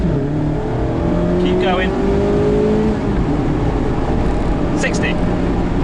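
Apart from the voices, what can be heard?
Mazda MX5 RF accelerating during 0 to 60 test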